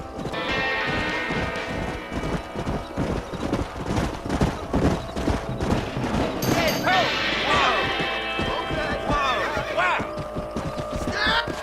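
Horses gallop in Red Dead Redemption, with rhythmic hoofbeats pounding close and loud. A horse neighs and whinnies midway, and there is scattered game noise and background music but no spoken words.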